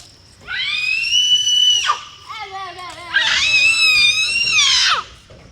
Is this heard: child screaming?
yes